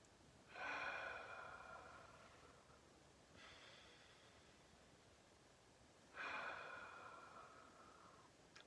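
Deep abdominal breathing during a mindfulness exercise: two long, airy inhalations, each drawn for about two seconds with a slow fade, and a fainter breath between them, all close and quiet with no talk.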